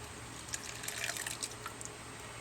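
Water trickles and pours softly into a measuring cup inside a travel trailer kitchen, a faint, brief splashing with a few small drips over low background hum.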